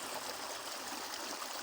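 Stream of clear water in Skardu, a steady close rushing and trickling flow with no voices.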